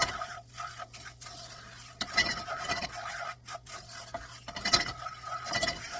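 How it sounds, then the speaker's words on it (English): Close, soft scraping and rasping of a utensil pushing breadcrumbs and garlic around a hot pan off the heat, irregular strokes with a few louder scrapes, no voices. "Keep stirring, let the residual heat from the pan do the work for you"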